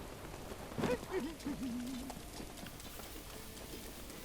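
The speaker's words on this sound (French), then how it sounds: "Ici c'est le gros problème ici, c'est la pluie." A continuous hiss of steady rainfall in the video game Breath of the Wild fills the background while a voice speaks briefly over it.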